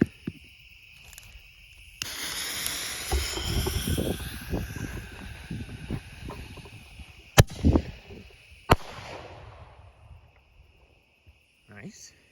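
A Loud and Mighty 1-inch mini mortar ball shell crackles and fizzes for several seconds, then bursts with two sharp, loud bangs and fades into faint outdoor quiet.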